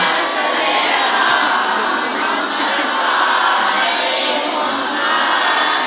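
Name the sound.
crowd chanting religious slogan Ya Ali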